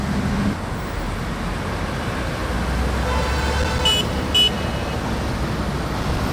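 Busy city traffic in Abidjan, with many cars, taxis and buses, forms a steady roadway roar, and a couple of short horn toots sound near the end.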